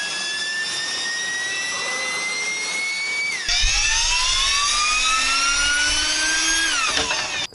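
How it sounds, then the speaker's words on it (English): Electric ducted fans made for RC planes whine loudly like small jet turbines, a high-pitched tone rising steadily as thrust builds, then jumping to a louder, deeper roar that keeps climbing. "we're actually using electric ducted fans, which are used in RC planes"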